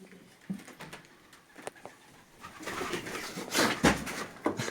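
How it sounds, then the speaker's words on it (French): Pigeons trapped in an abandoned sugar factory coo and flutter nearby, with wing flaps and scuffling growing busier and louder toward the end. "Il y a des pigeons qui sont coincés là-bas, donc n'aie pas peur."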